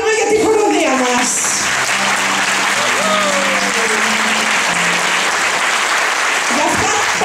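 Warm applause for a choir at an evening concert, a loud sustained clapping crowd with a voice talking over it near the start and background tones underneath.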